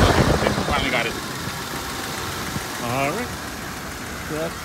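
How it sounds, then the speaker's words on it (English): A 1980 Mercedes-Benz 450 SL engine idles with a steady, close rumble while someone talks over it. "Okay, so finally got it."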